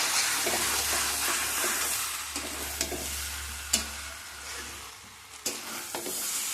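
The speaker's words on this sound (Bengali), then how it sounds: "আলুটাকে ভালো করে মাংসের সাথে মিশিয়ে নেব।" Potatoes being stirred with chicken in a pan, a steady close sizzle of frying with scraping stirs and occasional sharp utensil knocks against the pan, no voices.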